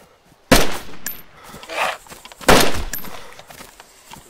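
Two sharp, close .45 pistol shots ring out about two seconds apart in the game DayZ, each a loud crack with a short tail, with faint scuffing movement between them.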